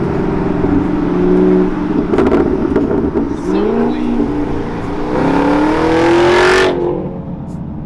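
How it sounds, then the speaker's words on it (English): A loud Camaro exhaust, stock with a muffler delete, revs hard in repeated bursts, popping and climbing to a sharp peak before dropping off; a voice briefly comments. "It's popping right now. Stock with a muffler delete, I'm pretty sure."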